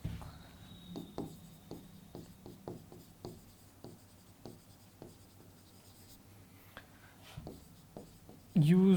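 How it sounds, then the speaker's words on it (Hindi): Chalk or marker taps and scratches on a board during a classroom computer lecture, a steady run of short strokes, close but soft, with the lecturer speaking faintly around them. "बेसिक कमांड में यहाँ लिखता हूँ"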